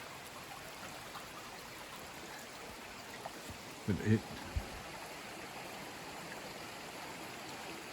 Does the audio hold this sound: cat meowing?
no